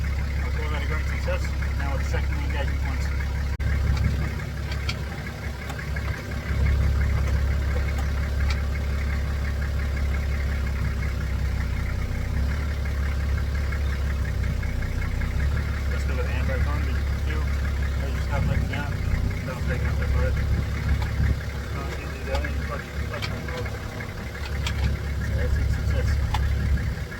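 A Nissan Patrol engine idles steadily after starting, a low rumbling drone with a faint knocking texture that holds close and constant throughout, with a voice speaking over it at times.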